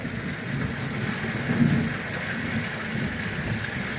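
Heavy rain pours steadily in a thunderstorm, a dense close hiss with a low rumble of thunder swelling briefly midway, no voices heard.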